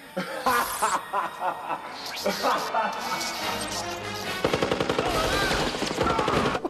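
Bursts of automatic gunfire from an action scene in the 1990 film Total Recall, with rapid rattling volleys and crashes, mixed with music and voices and some laughter.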